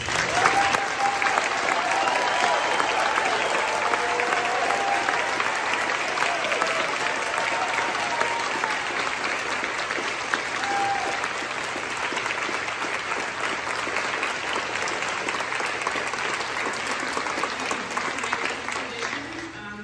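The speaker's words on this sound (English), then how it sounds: "So if you would help me in giving them a round of applause for this." A long, steady round of applause from a choral concert audience, dense and even for about twenty seconds, with no voices rising above it.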